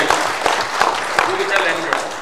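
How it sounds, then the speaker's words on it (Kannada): An audience at a stage event applauds Ravichandran with a dense, steady wash of clapping, some sharper individual claps standing out, with a voice faintly mixed in. "ಸಿಂಪಲ್ ವಿಷಯಗಳನ್ನು ಸಖತ್ತಾಗಿ ಹೇಳಿರುವಂಥ ನಮ್ಮ ರವಿ ಸರ್ಗೆ ಒಂದು ದೊಡ್ಡ ಚಪ್ಪಾಳೆ ಬರಬೇಕು ಪ್ಲೀಸ್"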